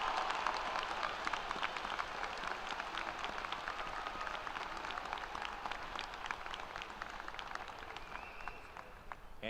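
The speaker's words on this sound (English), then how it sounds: "Big round of applause for the top academic students" A high school graduation audience applauds the top academic students of the class of 2026, dense continuous clapping from a large crowd that holds steady and tapers slightly at the close.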